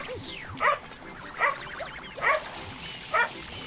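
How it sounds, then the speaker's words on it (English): A dog barks four times at an even pace somewhere in a house, sharp yips with a whimpering edge, fairly close and clear above a quiet background. "Oh, and now the dog's barking."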